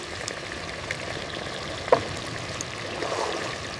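Meat, onion and garlic fry softly in a pan as sour yogurt is added, a faint steady sizzle with a sharp clink partway through.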